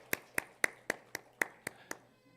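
A church congregation claps during a Sunday morning Methodist worship service, about eight evenly spaced, sharp claps sounding together in a steady rhythm, then quickly falling quiet.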